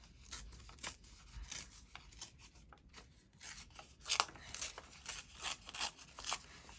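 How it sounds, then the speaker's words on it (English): Copy paper being torn by hand around a flower shape, a series of short rasping rips and rustles in uneven bursts, close and quiet, louder toward the end, no talk. "So this one I'm thinking I might fussy tear this lovely flower out."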